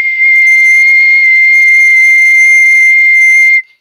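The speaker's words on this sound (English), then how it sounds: "I'm going to whistle and try to extract the frequency." A single steady, high-pitched human whistle at about 2100 Hz held for over three seconds, loud and clean, then cut off abruptly.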